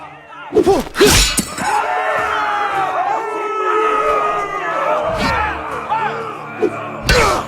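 A dense, roaring arena crowd in the video game Game of Thrones: A Telltale Games Series cheers and bellows continuously, with loud bursts and crashes punctuating the din near the start and end.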